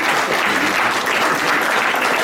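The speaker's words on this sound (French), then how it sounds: "On l'applaudit quand même." Audience applause at a public meeting, a dense, steady wash of many hands clapping at once, loud and continuous with no talk over it.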